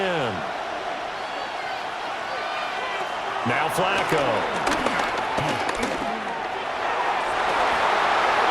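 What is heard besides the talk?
stadium crowd cheering in Madden NFL 26 video game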